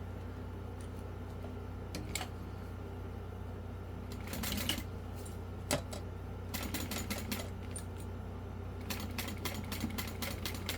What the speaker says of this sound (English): we're going to top stitch through all of this, including that D-ring connector